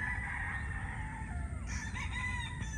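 A Kasmina White rooster with a straight comb crows at a gamefarm, a moderately distant call rising over steady low background noise, with no talk.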